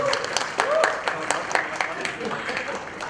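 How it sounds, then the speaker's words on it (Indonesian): Applause at a World Press Freedom Day 2017 forum on media in conflict and crisis, scattered claps rising and thinning over about three seconds, with voices murmuring underneath. "Boleh tepuk tangan."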